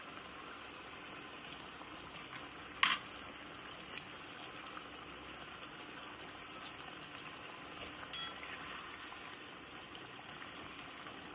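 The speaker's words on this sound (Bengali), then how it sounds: "আচ্ছা, ও ঝোলটা ফুটে গেছে তো?" Katla fish curry gravy bubbling in a pot on a gas stove, a steady low simmering hiss with soft bubbling throughout and a couple of brief clinks, heard close and fairly quiet.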